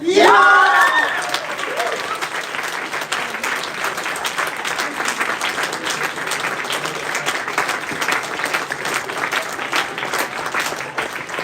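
Audience applause after a moot court decision at an international arbitration moot, a long, steady wash of clapping from a large room that starts with a brief voice and then continues alone.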